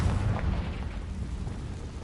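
Confringo fire spell blasting in Hogwarts Legacy, a rumbling explosion that fades into a low, decaying roar, fairly quiet and with no talk over it.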